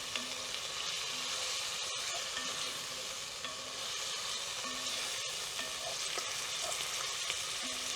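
Steady, close frying sizzle of shallots and garlic in a hot Dutch oven crackles throughout, with occasional stirring scrapes and brief clicks, no voices.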